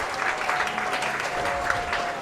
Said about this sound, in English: there's some people cheering for him now